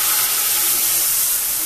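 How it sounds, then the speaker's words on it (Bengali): Water poured into hot oil left from frying Bada fish in a pan gives a steady, loud, broadband hiss and sizzle that holds evenly for under two seconds with no talk. "এই তেলে সামান্য একটু পানি দিয়ে দিব"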